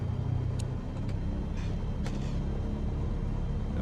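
A Cessna 172 engine idles at about 1000 RPM, a steady low rumble that holds throughout, with a few faint clicks and ticks over the top and no voices.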